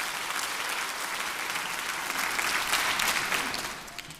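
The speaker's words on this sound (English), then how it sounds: "Let's give that a round of applause." A live audience at a book talk with Senator Raphael Warnock claps, a dense and sustained round of applause that swells slightly near the end and then starts to taper.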